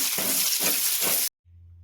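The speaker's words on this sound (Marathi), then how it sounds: "आपण एक छोटा टाकलेला कांदा आपण याच्यामध्ये परतून घेऊया" Chopped onion hits hot oil with cumin and mustard seeds in a pan and sizzles loudly and steadily at close range, then cuts off abruptly.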